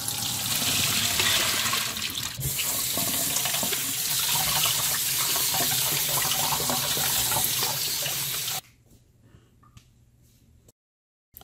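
Tap water runs loud and steady over ginger roots being rinsed in a kitchen sink, then cuts off abruptly, leaving a quiet room with faint clicks.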